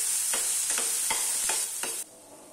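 Onions sautéing lightly in a hot pan with asafoetida for kuzhi paniyaram batter: a loud, steady sizzle with five rhythmic spatula scrapes, then the sizzle cuts off abruptly.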